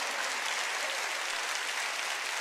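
Church congregation at a sermon clapping together in a dense, steady wash of applause that fills the room evenly from start to finish, with no voice over it.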